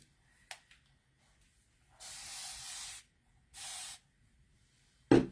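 Two long hissing sprays from a cleaning spray bottle, each about a second, separated by a pause, near egg cartons, with a few faint clicks and a thump around them.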